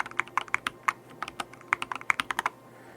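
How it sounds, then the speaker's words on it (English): Rapid, even keystrokes on a mechanical keyboard fitted with new switches and O-rings on the keycaps, giving a muted, less clacky patter of about twenty presses, close and alone. "now I've put O-rings on the keys, on the keycaps, so it's a little bit more muted and not quite as clacky sounding"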